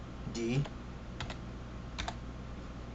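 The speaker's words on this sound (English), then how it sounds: "normally go into run and type cmd" Keys clatter on a computer keyboard as a short command is typed into a command prompt, a brief burst of clicks followed by two isolated keystroke pairs, close and fairly quiet over a low room hum.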